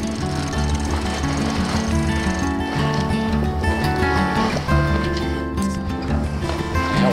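A sailboat winch is cranked to hoist a spinnaker, giving a dense, continuous rattling, ratcheting clatter with steady tonal whine, loud and close throughout, no clear speech.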